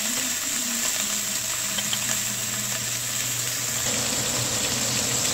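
Red wine braised pork browns in a pot with a steady, loud sizzle and a constant hiss of frying that lasts throughout. No one speaks over it.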